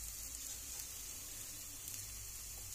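Salt, turmeric and chili powder sizzle and fry steadily in an egg curry pan, a loud close hiss that holds without break; no talk.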